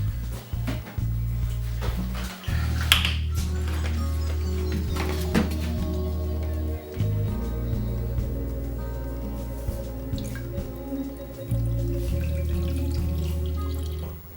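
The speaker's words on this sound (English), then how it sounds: "just top up the coolant" Coolant pours and trickles into the engine of a TD42 GQ Nissan Patrol, a steady liquid gurgle with faint drips and small clicks over a constant low hum, close and moderately loud.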